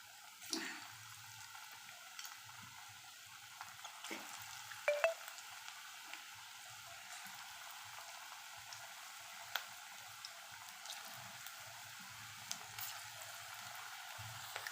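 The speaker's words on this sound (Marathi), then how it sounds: "उरलेली सगळी भजी आपण तळून घ्यायची आहे असे गोळे टाकून" Cabbage fritters deep frying in oil: steady hiss with scattered crackles and pops, continuous and fairly close, with a few brief clinks and drips.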